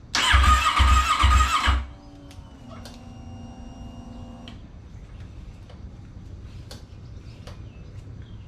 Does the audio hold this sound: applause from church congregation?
no